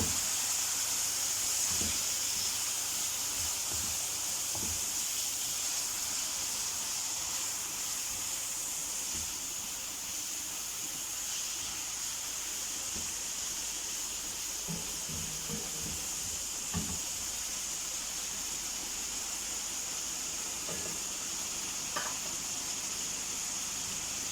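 Chicken shashlik pieces cooking in a hot pan give a continuous loud sizzle and hiss, with occasional soft clinks and scrapes of a utensil under it.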